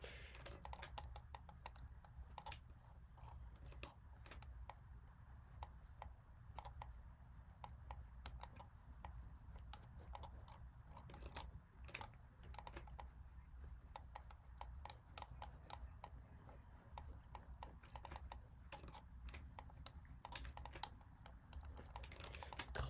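Steady typing on a computer keyboard, with dense, irregular clicks of keys continuing without pause, close and moderately loud, with no talking.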